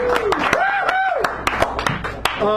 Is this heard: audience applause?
yes